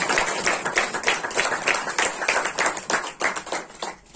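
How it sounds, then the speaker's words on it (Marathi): A church congregation claps in thanks to Jesus during a Sunday service, a brisk, rhythmic run of many hands clapping together, fairly close and lively, with a few voices faintly underneath. "तर त्या प्रभू येशू ख्रिस्ताला एकदा टाळी वाजवून धन्यवाद द्या"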